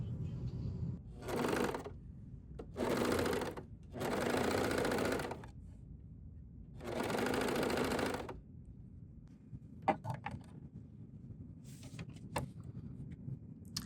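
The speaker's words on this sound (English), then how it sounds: "So now we're ready to stitch this on our serger." Serger sewing machine stitching fabric in four loud bursts of rapid mechanical whirring, each one to two seconds long with pauses between, then softer clicks and handling noises toward the end.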